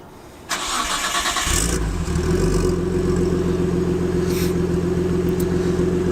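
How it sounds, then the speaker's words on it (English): RB25-swapped Nissan R32 Skyline cranks over and fires up, then settles into a steady, loud idle with a deep exhaust burble that continues alone to the end. "For now, let's see how the exhaust sounds."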